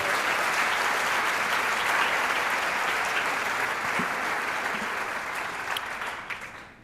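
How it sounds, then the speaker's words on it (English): An audience at a hunger action luncheon gives a sustained round of clapping, full and steady across the room, thinning and fading toward the end. "How about one more round of applause for the food guy?"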